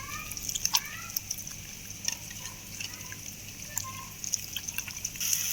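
Soaked tamarind is squeezed by hand in water for chicken pulusu, giving faint wet squelches, drips and trickles at irregular moments against quiet kitchen background.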